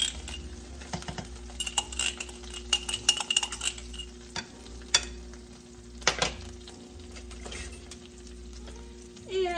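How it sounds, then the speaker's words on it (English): Butter melting and sizzling in a hot pan for a quick home dinner, a steady frying hiss with utensils clinking and scraping nearby, close and fairly clear with no talking. "now I'm gonna take and add some butter"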